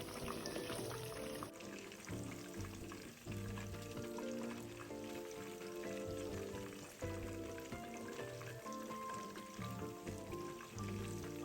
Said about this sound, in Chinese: 再将肉块翻面，炉保持中低火，一直油炸至肉块完全熟透